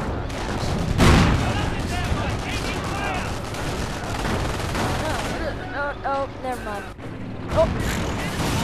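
Tank explosion during a Company of Heroes Online 3v3 battle: a heavy boom near the start rises out of a dense, continuous din of gunfire and battlefield noise that carries on loudly throughout.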